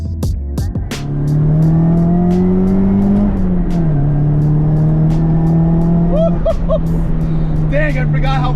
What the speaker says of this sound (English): this is my 180SX, and we are finally adding some special parts to it